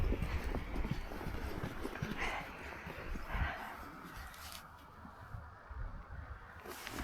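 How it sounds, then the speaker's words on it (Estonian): Horse hooves clip-clop on a street during a walk in Tartu, Estonia, a close, rhythmic clatter of steps that is fairly faint and mixed with outdoor noise. "Ja hobud."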